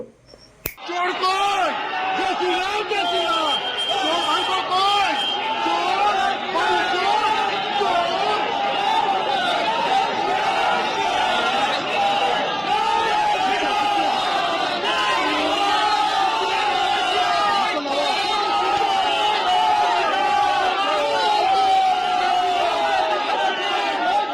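Political crowd chanting a 'thief, thief' slogan at a politician aboard a plane: a dense, loud and continuous mass of rhythmic shouted voices, sustained without pause throughout.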